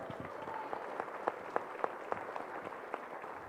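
Faint audience applause at a business conference talk, with sparse individual claps popping out over a soft, distant wash of clapping for a few seconds.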